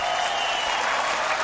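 The hall audience at Eurovision 1999 gives dense, enthusiastic applause, a continuous wash of clapping with crowd noise throughout.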